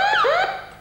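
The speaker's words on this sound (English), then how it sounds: "I notice that the sound is like a two-tone siren." Electronic two-tone siren from a school-built coin game circuit that sounds when a coin covers a light-dependent resistor, alternating between two wailing pitches in a short loud burst that fades toward the end.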